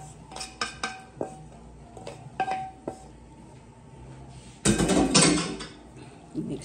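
Sharp metallic taps ring out as a utensil chops browned turkey in a pan, spaced hits early on, then a louder scraping clatter near the end, with no talking.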